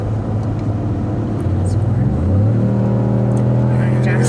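A 2015 Ford F-150 2.7L EcoBoost pickup engine revs hard to about 5,000 RPM and climbs to a high, sustained whine, loud and close, with a rising pitch around midway.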